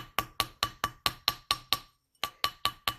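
A rawhide mallet strikes a wire herringbone ring on a metal mandrel in steady, evenly spaced sharp taps, about a dozen blows with one brief pause, close and clear.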